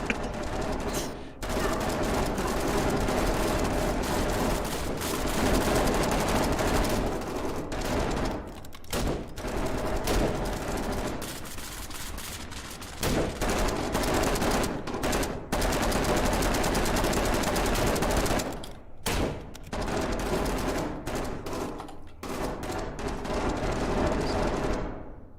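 Sustained automatic gunfire in the video game SCP: Pandemic, near-continuous bursts of rapid shots filling the whole stretch with only brief gaps, loud and dense.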